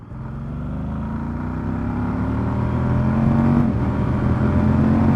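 A motorcycle engine in third gear at about 30 mph holds a steady, rising drone, with the pitch climbing gradually and a brief dip near the end.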